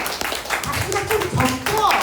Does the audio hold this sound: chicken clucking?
no